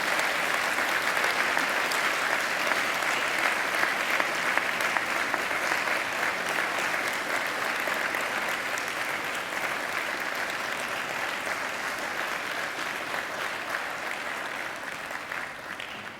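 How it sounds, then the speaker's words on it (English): Graduates at a Macquarie graduation ceremony applaud their families and friends, a dense, steady roar of many clapping hands that fills the hall and fades slightly toward the end, with no talk over it. "And now I invite you to give them a mighty round of applause."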